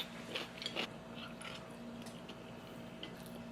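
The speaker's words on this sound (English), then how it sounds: "That was a good bite." Food is bitten during a mukbang: a few soft, crisp bite and chew sounds cluster at the start, then fade into quiet, close-miked mouth noises against a faint background hum.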